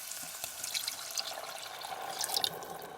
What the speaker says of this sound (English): And we're adding some water.